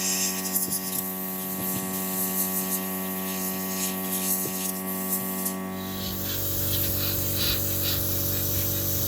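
A spray gun hisses as it sprays cocoa butter onto a chocolate mold, a steady airy spray over a constant electrical hum, growing louder and broader partway through.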